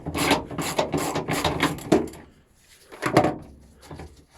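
Hand tools undoing 10mm nuts on a car's gear selector assembly during rear bumper and handbrake work, a close series of rasping, scraping turns in bursts with a short pause before a final round.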